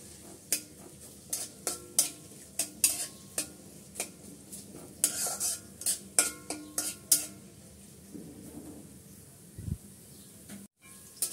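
Chopped onion and green chili stirred in a pan while making a mustard and coconut pointed gourd fry, with repeated scraping spatula strokes and light clinks over a faint sizzle, close and fairly quiet.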